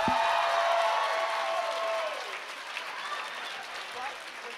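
A convention crowd at a live drag panel show claps and cheers loudly, the applause swelling at first and then thinning out while a voice talks over it.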